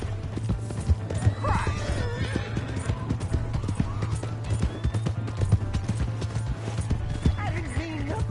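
A horse in Red Dead Redemption 2 gallops with rapid clip-clop hoofbeats and whinnies loudly, while other game sounds and shouting voices mix in.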